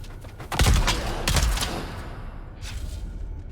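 Bursts from a burst-fire weapon in Dune: Awakening: two loud, sharp volleys of rapid shots close together, then a fainter rattle as the echo tails off.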